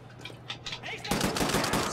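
Rapid gunfire erupts from hip-fired weapons in Wolfenstein: The New Order, a loud dense burst after a short stretch of quieter game sound, with a voice speaking faintly underneath.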